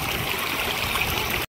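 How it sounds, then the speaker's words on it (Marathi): Irrigation water keeps running through the channels of a vegetable field after the pump motor is switched off, a steady close trickle and gurgle that holds at an even level throughout, then cuts off abruptly. "आणि पाणी पण अजून वाहते जुळजुळू"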